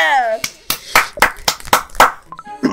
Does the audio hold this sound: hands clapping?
yes